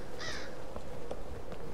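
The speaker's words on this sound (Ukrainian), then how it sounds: "Ворони кукурікають." Crows cawing in the video game Husk, a few harsh calls near the start followed by sparse fainter caws over a steady dark ambient bed, with no talking.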